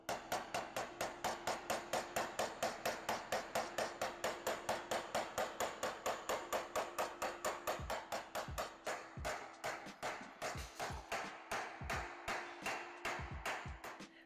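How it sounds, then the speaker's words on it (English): A hand hammer forms a beaded metal panel with fast, evenly spaced ringing blows, dozens in a steady rhythm, loud and close, with a few heavier, deeper strikes near the end and no talk. "It will take time if you're using a hammer."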